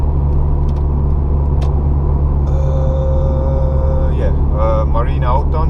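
A car cruises through the streets of Tallinn, Estonia, its engine and road noise forming a loud, steady low rumble from inside the cabin, with a voice briefly cutting in near the end.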